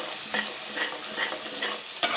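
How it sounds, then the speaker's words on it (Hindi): Spices for a besan gravy fry and get stirred in hot oil, a steady close sizzle broken by four or five scraping spoon strokes at regular intervals, with no talk. "अब हम इन मसालों को कर लेंगे फ्राई, अच्छा सा मसाला भुनेंगे"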